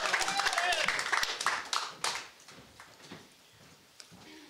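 A crowd at the Uhuru Solidarity Movement National Convention claps and applauds loudly, the clapping thinning out and fading after a couple of seconds, with voices mixed in.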